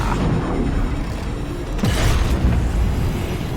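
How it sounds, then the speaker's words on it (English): Super weapon in the Evil Genius 2 video game fires with a heavy, continuous boom and rumble, a sharper blast and whoosh swelling about halfway through, loud and dense throughout with no talking. "it's been a while since I've seen the full animation for Max's super weapon"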